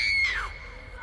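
A woman lets out a short, shrill scream of fright in a horror story, loud and close, fading quickly over a low rumbling background.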